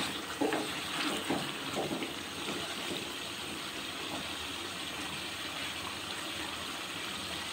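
Water from a mug pours into a cooking pot of simmering lentils and meat dal gosht, a soft steady splashing that starts with a few brief louder spills and settles into a quiet continuous trickle.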